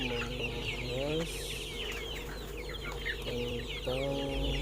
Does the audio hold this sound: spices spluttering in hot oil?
no